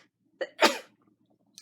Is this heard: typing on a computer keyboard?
no